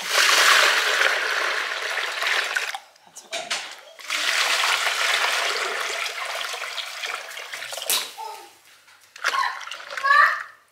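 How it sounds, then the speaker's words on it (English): Water runs loudly at a kitchen sink during dishwashing in a home in Mexico, a steady broad splashing rush that stops twice briefly, with a voice and other talk in the gaps. "All right, we're doing dishes."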